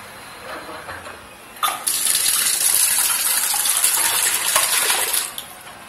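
Water from a borewell pump bursts out after a quiet start and gushes in a loud, steady hissing stream for several seconds before cutting off.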